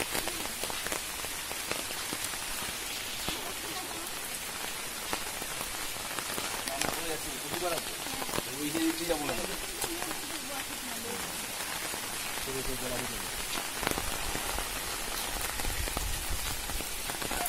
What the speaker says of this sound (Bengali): জোরে বৃষ্টি শুরু হয়ে গেল।